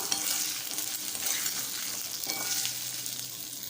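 A spoon stirs and mixes a flattened-rice and semolina dumpling tiffin in a pan over a soft continuous sizzle, with repeated close scraping strokes and no voices.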